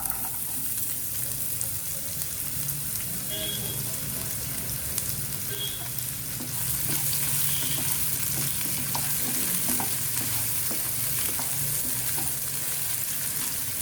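Onion with cumin seeds frying in oil in a pan, a steady close sizzle with faint stirring and occasional clinks, continuing evenly throughout without talk.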